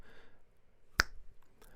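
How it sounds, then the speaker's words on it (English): A single sharp finger snap made to sync audio for a Zoom podcast recording, close and crisp, standing alone against a quiet room. "maybe just snap"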